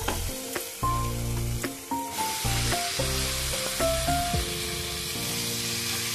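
Loud, steady sizzle as boiled cabbage goes into a pan of hot tomato masala, with stirring scrapes and a few bright metallic clinks of a utensil against the pan, all without any talking.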